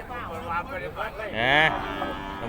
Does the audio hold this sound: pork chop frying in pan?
no